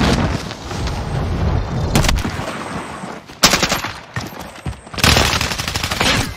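Bursts of automatic gunfire in Warzone on Rebirth Island, loud and close, firing in several sustained volleys separated by short pauses.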